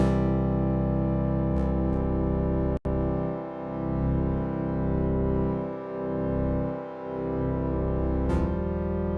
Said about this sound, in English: particularly with these very static sounds like this brass sound